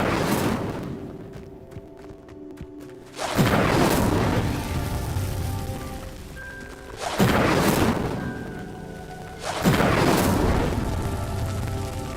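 Booming fire-spell blasts from the Incendio spell in Hogwarts Legacy as pyres are lit, three loud whooshing bursts a few seconds apart, each decaying into crackling, over quiet game ambience.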